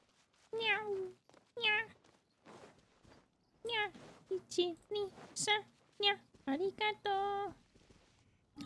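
Repeated meows from a cat character in a video game, uneven bursts of short and drawn-out calls, clear and close against a quiet background, with a few soft thuds between them.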